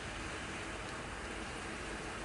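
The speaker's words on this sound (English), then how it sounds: "I think that noise you can hear in the background is actually rain" Steady rain falls outside, a faint, even hiss of drops that runs unbroken in the background with no other sounds over it.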